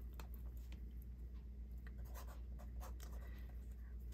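A pen scratches across paper in short, quick strokes, close and quiet, with faint rhythmic scribbling over a low background hum during a papercraft layout session.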